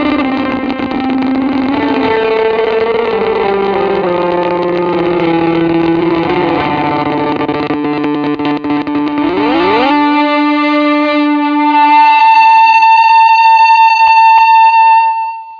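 Electric guitar runs through a Boss Blues Driver overdrive and a delay. Loud sustained distorted chords shift into pitch sweeps, then a single held tone rings out, with repeats trailing behind.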